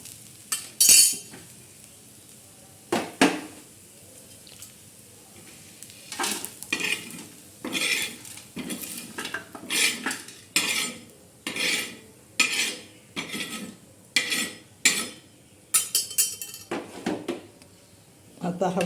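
Black masala spice mix is roasted and stirred in a pan, making repeated brisk scraping and rattling strokes in an uneven rhythm, each burst loud and close against a quiet background.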